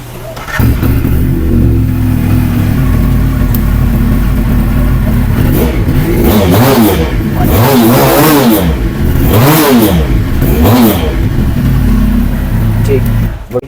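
A 400cc heavy sports motorcycle at a showroom is revved repeatedly, with loud engine roar and several rising and falling throttle blips in the middle stretch, and a steady idle running underneath throughout.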